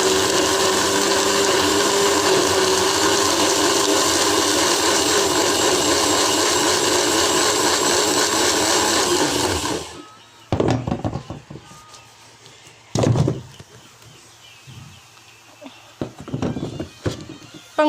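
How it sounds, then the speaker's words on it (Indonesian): Worn-out blender reserved for feed, chopping papaya leaves with a little water for chicken feed, roaring loudly and steadily for about ten seconds before stopping, followed by quieter clunks and handling noises. "Di sini daun pepayanya akan saya blender, saya kasih sedikit air"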